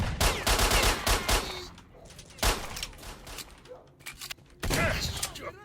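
Gunfire in the video game S.T.A.L.K.E.R.: loud bursts of rapid automatic shots in three volleys with short gaps between them, close and dominant, with a few scattered thuds in the quieter stretches.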